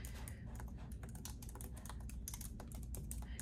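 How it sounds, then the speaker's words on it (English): Steady typing on a computer keyboard, a quick run of close, fairly faint key clicks with no talk over it. "Am I typing and pulling up books as I go? Yes, I am."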